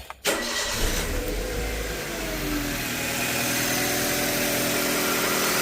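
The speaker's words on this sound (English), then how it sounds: "Let's start it back up, right? This has the 1NZ setup in it, so I want to start the vehicle back up." A 2001 Toyota Corolla with the 1NZ engine cranks briefly and catches, then settles into a steady, loud idle with a continuous mid-range hum that carries on close up.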